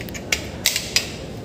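Classroom fan wall switches are flicked off one after another, giving three sharp, close clicks at even intervals with a couple of fainter taps in a quiet room.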